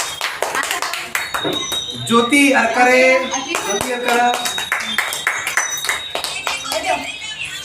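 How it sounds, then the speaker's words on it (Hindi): People clap in bursts at a certificate-giving event while a voice calls out names over the applause. A few scattered claps follow between the names. "ताली बजाओ"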